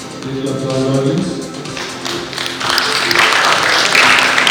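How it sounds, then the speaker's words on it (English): An audience at a leadership awards ceremony claps. It starts lightly under voices and swells into fuller, louder applause in the second half. "Little applause, audience."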